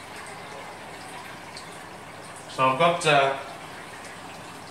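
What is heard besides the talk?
water splashing down in a reef aquarium sump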